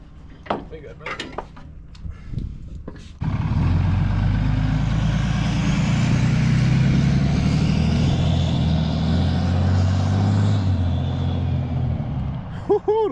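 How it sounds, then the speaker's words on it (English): Truck engine with turbos revving after a coilover suspension job, a loud sustained roar with rising turbo whine that starts abruptly after some clanking metal knocks and fades off with a short whistle. "them turbos sound crazy"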